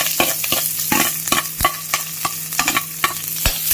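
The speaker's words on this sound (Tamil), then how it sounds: "இதில் வெங்காயமும் கருவேப்பிலையும் போட்டுக்கலாம்." Onions and curry leaves frying in hot tempering oil for a South Indian non-veg lunch, a dense steady sizzle crossed by repeated sharp spoon-stirring scrapes in an uneven rhythm, close and loud with no talking.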